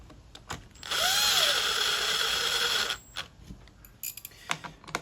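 A power drill driving screws into the plastic of a Craftsman 163cc push mower: one whirring burst of about two seconds, close and fairly loud, with small clicks and handling knocks before and after.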